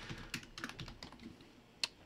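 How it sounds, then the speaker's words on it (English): Quick typing on a computer keyboard while renaming a folder, a handful of soft close key clicks over about two seconds ending in one sharper keystroke, quiet and without voices. "if I can type"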